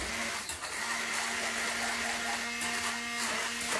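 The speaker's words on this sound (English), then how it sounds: "what I've got here is a stick blender, or an immersion blender." A stick immersion blender whizzes a potato mixture for gnocchi, a continuous buzzing whir at a steady level with slight wavering as the blade works, close and alone without talk.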